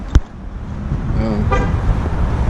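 A sharp click, then the 6.4-litre V8 of a stock 2019 Dodge Charger Scat Pack turns over and fires up, settling into a loud, steady rumble close by.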